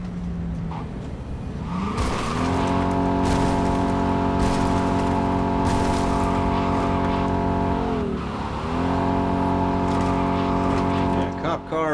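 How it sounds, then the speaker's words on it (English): A police car and a Delamain car race through Cyberpunk 2077 with loud, droning engine whines that hold steady, dip sharply during a swerve around eight seconds, then climb again, with tire skids and impacts, while speech is mixed in. "cop car versus Delamain car"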